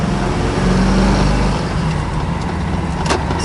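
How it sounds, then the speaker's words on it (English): A 1969 Chevrolet Camaro Z28 with a Muncie M22 gearbox pulls away in first gear, its engine a steady, loud low rumble that rises as it accelerates, with no talk over it. "we've got first gear again pulling out"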